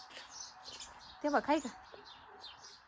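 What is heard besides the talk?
sparrows chirping indoors, nesting in ceiling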